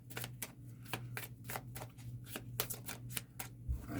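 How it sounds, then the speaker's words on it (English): Playing cards are shuffled by hand for a tabletop game, a rapid, close riffling patter of crisp snaps running steadily for several seconds over a low hum, with no talk. "We'll just shuffle these"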